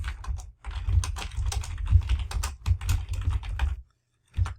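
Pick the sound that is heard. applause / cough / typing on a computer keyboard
typing on a computer keyboard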